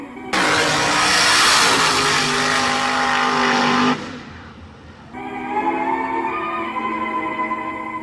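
A Chevrolet car accelerates and passes with a loud, rising engine roar for about four seconds, then a cut to a quieter, steadier engine drone with shifting pitch.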